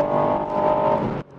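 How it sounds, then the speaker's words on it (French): The three-cylinder turbo engine of a Ford Puma ST revs with a loud, close droning tone on a sunny drive, holding and rising briefly before dropping off sharply. "Ce moteur, donc 3 cylindres turbo qui chante jusqu'à 6000 tours minute."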